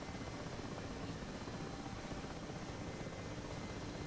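A Mi-8 helicopter hovers in the DCS flight simulator, its rotor thrum and turbine whine holding a steady, continuous drone at low level with no talk.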